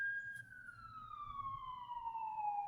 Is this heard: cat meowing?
no